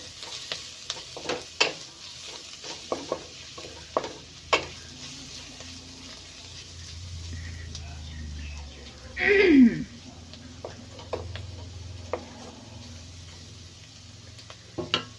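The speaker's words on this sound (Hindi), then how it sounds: "पहले हम ऐड करेंगे रेड चिली पाउडर, इसे मिक्स कर लेंगे" A spoon stirs noodles in a pan after red chili powder is added, giving sparse, soft scraping ticks and a low frying sizzle spread over several seconds, with a brief louder utensil clatter midway.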